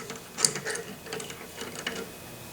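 A speed wrench ratchets while removing a valve guide from a 1936 Packard 120 engine, a quick series of close, light clicking ticks in an uneven rhythm, with no talking.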